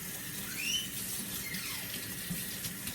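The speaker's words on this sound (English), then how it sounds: "I wash the leaves with room temperature water" Room-temperature tap water runs steadily from a faucet to wash orchid leaves, a soft continuous splashing with faint squeaks, close by and without talk.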